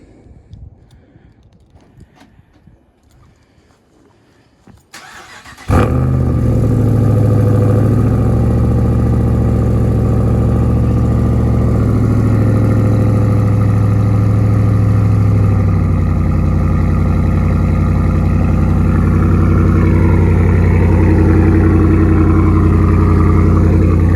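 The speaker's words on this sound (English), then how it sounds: "here's a first start, true cold start" After a quiet moment, a 2018 Ram 1500 pickup with its muffler deleted cold-starts at about 38°F, cranking and roaring to life, settling into a loud, rumbling, raw idle that persists.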